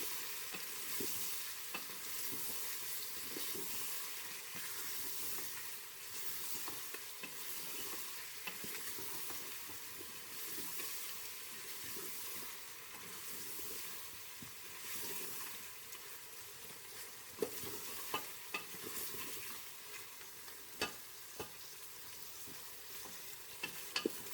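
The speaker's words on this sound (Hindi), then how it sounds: "अब हम चिकन को गोल्डन ब्राउन करेंगे।" Steady crackling sizzle of chicken frying in hot mustard oil with salt and cumin, with occasional sharper pops and scraping stirs, continuous throughout.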